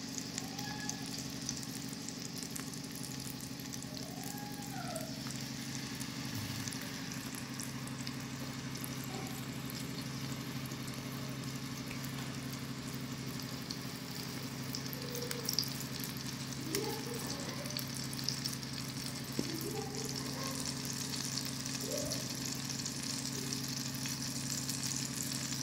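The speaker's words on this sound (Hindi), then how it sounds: "मस्टर्ड ऑयल में बना रही हूँ मैं" Patties of minced mutton keema frying in mustard oil, a continuous, even sizzle throughout with faint scattered pops and bubbling, steady and fairly close with no talk.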